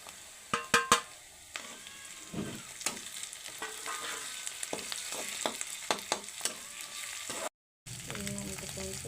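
Onion and tomato paste frying in a pan, a steady sizzle broken by stirring scrapes and a few sharp clinks near the start, with a brief dropout near the end.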